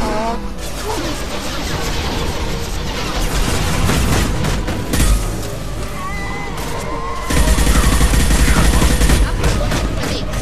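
Loud bursts of rapid gunfire and crashing impacts in Mass Effect 2, with a dense, continuous battle din intensifying in stretches, with a voice briefly heard underneath.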